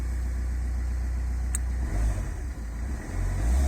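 A Ford Fusion 1.4 TDCi diesel engine, turbo removed and running on hydrogen with a pilot jet of diesel, idles with a steady low rumble, its note dipping and swelling slightly partway through.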